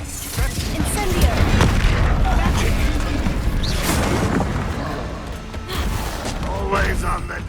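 A fiery Incendio spell is cast in the Hogwarts Legacy video game amid a chaotic duel, a dense run of booming bursts and crackling blasts layered over a steady rumble, with game voices speaking over the combat.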